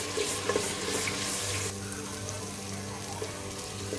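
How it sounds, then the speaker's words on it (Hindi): Ginger garlic paste frying in a pot, a bright hiss of sizzling that drops noticeably in intensity partway through and continues as a quieter sizzle with light stirring, close up and without speech. "इसको 2 मिनट के लिए भून लेंगे इसके अंदर"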